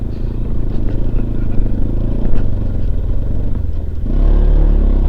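A motorcycle ridden off-road over a rough, bumpy track gives a continuous loud engine rumble laced with rattling and clattering, the engine swelling louder in the final second.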